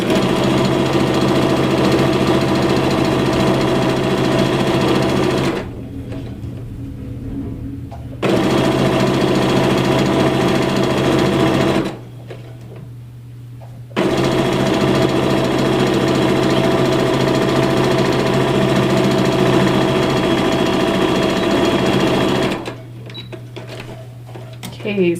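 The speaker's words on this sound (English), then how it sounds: "turn it down so it's right sides together, and sew 1/4 inch seam again" A sewing machine stitches a quarter-inch seam on an American flag quilt block, whirring in steady runs of several seconds that stop briefly between passes.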